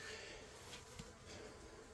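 Honey bees buzzing around a hive during honey extraction, a steady dense hum with no talk.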